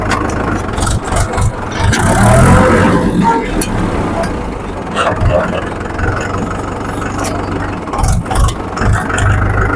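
An old Swaraj 843 XM tractor with a blue bonnet runs steadily, its engine a continuous close rumble throughout, with a few brief louder surges.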